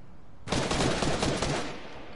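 Automatic gunfire in Fortnite, a loud, close burst of rapid shots lasting over a second that then trails off, with no talk over it.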